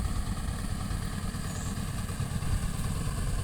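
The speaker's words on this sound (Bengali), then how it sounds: "এদিকে আবার একটা ট্রলার আসতেছে দেখতেছি" A motorized trawler on a river in Bagerhat chugs at a low, steady throb, faint and somewhat distant, with no talk over it.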